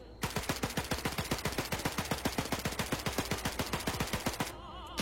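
Rapid automatic gunfire in a video game, a fast steady burst of around forty shots that carries on for over four seconds, loud and close, then cuts off abruptly.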